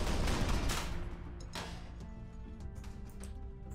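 A cannon in the sandbox game People Playground fires a loud burst at first, then fades to scattered sharp impacts and clattering debris with occasional distinct cracks.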